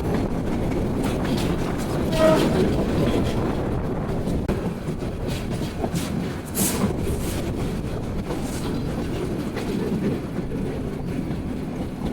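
The Mohanagar Express, a Chittagong–Dhaka meter-gauge train, rushes at speed through Imambari railway station in a continuous rumbling roar with rhythmic wheel clatter, loud and close throughout.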